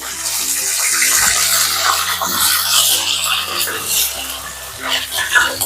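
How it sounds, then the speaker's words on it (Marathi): Mustard seeds, cumin, slit green chillies and curry leaves crackle and sizzle in hot oil in a home kitchen, a steady dense hiss with sharp popping bursts throughout. "मोहरी टाकते एक चमचा एक चमचा जिरं टाकते मिरचीचे उभे काप टाकते आणि कढीपत्ता टाकते"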